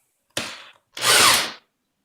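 Two bursts of a power drill boring through HDPE plastic for an axe sheath: a short one, a brief pause, then a longer, louder whine that fades off.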